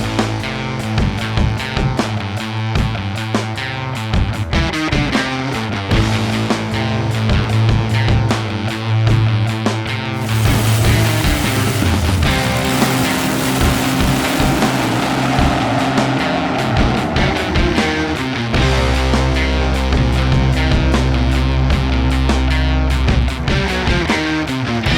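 A Top Alcohol dragster races a teammate in the final round of an NHRA divisional event at Bowling Green. The engine roars loudly and steadily with rising pitch, and a deep rumble swells toward the end.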